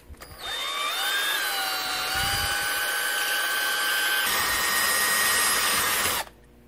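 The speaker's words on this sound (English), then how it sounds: "mix with a drill and see what happens" A power drill spins in a bucket of hard-panned ceramic glaze being mixed with Epsom salts, a loud continuous whirring whine that shifts pitch slightly and then cuts off abruptly.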